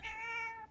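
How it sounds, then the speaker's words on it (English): A single clear, tonal meow from a cartoon cat, held for most of a second and then cut off, close and alone with no talking. "Baby Stevie turned into your cat"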